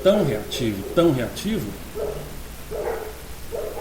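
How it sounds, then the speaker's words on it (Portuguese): Several dogs bark in a pack somewhere nearby, their short yelps rising fairly faint in the background after someone finishes talking. "Agora a cachorrada está latindo."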